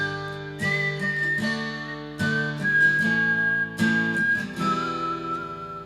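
A whistled melody drenched in reverb rings out over strummed acoustic guitar chords, with sustained, echoing tones carrying through the whole passage at a steady moderate level.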